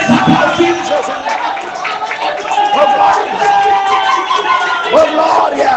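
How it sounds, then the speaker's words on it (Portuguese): A church congregation breaks into loud clapping and cheering, with shouts and whoops rising from the crowd and voices calling out across the room, sustained throughout. "Eu vou dar 1 minuto para vocês aplaudirem Jesus."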